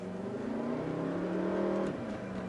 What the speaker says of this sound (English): See, I can hear the engine revving.